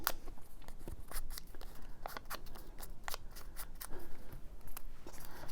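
Scissors trimming the white edge off paper, a quick run of crisp snips and paper crunches close to the mic, irregular in rhythm and with no talk.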